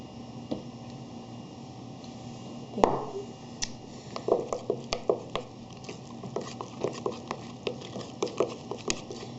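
A utensil stirs food colouring into cupcake frosting in a bowl, making a steady run of soft, rhythmic taps and squelchy clicks, close and fairly quiet.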